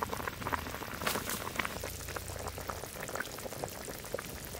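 A shol fish curry with sour mustard paste and mango bubbles and simmers in the pot, a quiet steady popping and crackling that stays close and even throughout.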